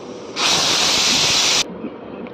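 Bhakri flatbread dropped onto a hot griddle gives a loud, steady steamy hiss that lasts just over a second and then cuts off abruptly.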